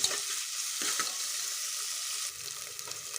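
Onions and ginger paste fry in a pan for a mutton curry, giving a steady close sizzle with scraping stirs and light clatter throughout.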